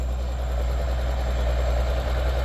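A tractor engine, a Kubota M108S or similar large farm tractor, idles steadily with a deep, even rumble and mechanical vibration, close and continuous, with no voices.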